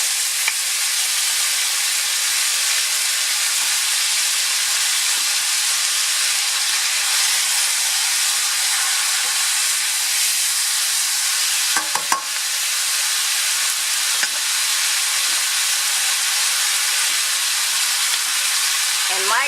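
Soy sauce sizzling in a hot pan with onions for a Puerto Rican rice, plantain and steak meal, a steady broad hiss of frying that runs nearly unbroken, with a couple of brief clinks near the middle.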